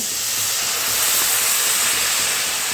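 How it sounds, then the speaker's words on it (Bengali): Water hits a pan of fried onion and spice masala for an egg and bhindi curry, giving a loud, steady, broadband hiss of sizzling steam that holds evenly throughout and cuts off abruptly at the end. "এখন আমি এর মধ্যে দিয়ে দিচ্ছি ঝোলের জন্য জল।"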